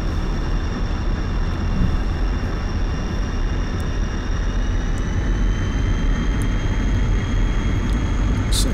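A MiG-21bis jet engine in a flight simulator runs at about 80% power while landing at just over 300 km/h, a steady loud broadband roar with a high whine that holds throughout and has no talk over it.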